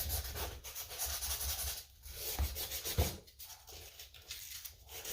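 Someone scrapes the top surface off a shoe being customized in a studio, using soft, repeated rubbing strokes in an uneven rhythm. The scraping is close but quiet, and no one talks.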